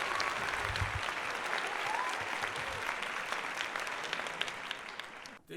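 Clapping from a group, a continuous dense patter of hand claps at moderate volume that thins out and stops abruptly near the end, with some low voice sounds early on.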